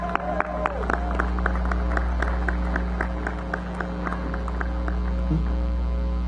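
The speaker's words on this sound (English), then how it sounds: "let's all clap for the real ones who helped us out." Commencement audience clapping at a college graduation ceremony, a spread of scattered individual claps over a steady hall hum, moderately loud and continuous.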